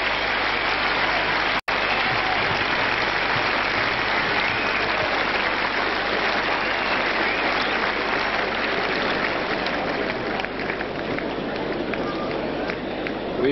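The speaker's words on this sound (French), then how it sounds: "Je vous laisse écouter les applaudissements du public." Sustained applause from a large crowd at a 1982 French Open tennis quarterfinal, a dense continuous clatter of clapping that stays loud throughout with one brief sharp click early on.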